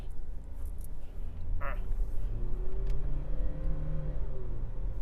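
A 2022 Ford Ranger Next Gen XLT driven in manual gear mode through a curve, its engine a steady close drone that rises slightly in pitch, with road and tyre noise beneath.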